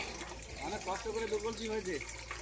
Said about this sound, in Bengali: আবার জল দেখো কি জোরে আসছে